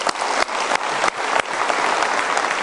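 A studio audience at a motivational talk show breaks into loud, full applause, a thick continuous wash of clapping with a few brief dips, heard alone with no voices over it.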